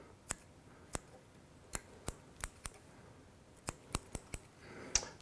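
Sharp scissor snips trimming thread on an articulated tube fly at a fly-tying bench, about a dozen crisp close clicks in uneven bursts with quiet pauses between.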